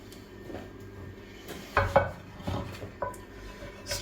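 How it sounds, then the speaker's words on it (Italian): Metal utensils clink and scrape against a pot of Neapolitan stew while fat is skimmed off, a few scattered knocks and rubs close by over a low kitchen hum. "sgrasso un po' la pentola."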